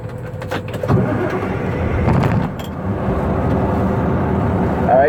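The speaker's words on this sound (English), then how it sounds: "now we're gonna start the truck on" A Class A tractor-trailer truck starts up before a brake test; its engine turns over and settles into a loud, steady, close diesel rumble with a brief louder surge early on.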